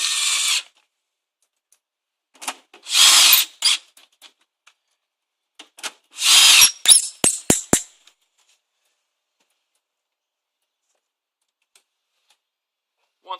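A power drill drives screws back into the front panel of a test analyser, with several short whirring bursts separated by silence and a few sharp clicks, close and alone.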